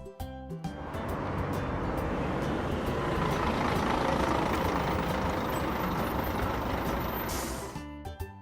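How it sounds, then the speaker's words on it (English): A school bus engine rumbles loudly and continuously for several seconds, framed by short musical tones at the start and end. "School bus."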